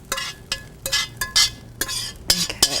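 Cooked red onion and bacon drippings are scraped out of a pan into a bowl, with a rapid series of close metallic scrapes and clinks of utensil against pan in an uneven rhythm.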